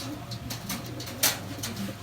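A racing pigeon coos softly and repeatedly at close range in a pigeon house, low throaty calls with light rustling and a brief sharper noise in between.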